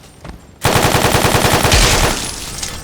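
Rapid automatic gunfire in Fallout New Vegas erupts suddenly after a quiet moment, a loud fast burst of about twenty close shots that trails off into an echoing tail.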